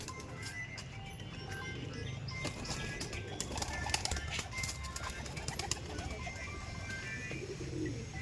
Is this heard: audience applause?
no